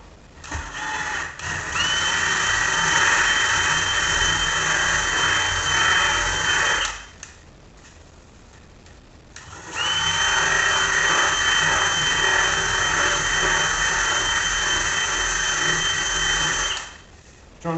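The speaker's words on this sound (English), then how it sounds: "Don't drill all the way through, because you'll chip the back of this out." A power drill bores into a kitchen countertop, whining steadily for several seconds, pauses, then runs again in a second long, even burst, fairly loud and close.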